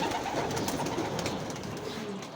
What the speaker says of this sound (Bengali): দেন কবুতরটি আনছি, আইনা সেটা এখানে রাখলাম